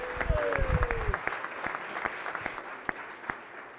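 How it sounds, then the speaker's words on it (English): A birthday round of applause on a state Senate floor: a voice is briefly heard at the start, then scattered, sparse claps from members that thin out into isolated hand claps. "I'd like the body to join me and a birthday round of applause for Senator"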